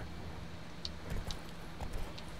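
Horse hooves clip-clop faintly at a slow walking pace in The Witcher 3 video game, a few soft irregular hoof falls over a quiet ambient background.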